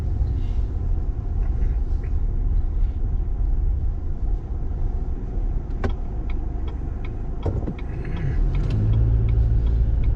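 Steady, loud road rumble and engine drone from a car cruising on a California highway, continuous throughout with a few faint clicks and rattles inside the cabin.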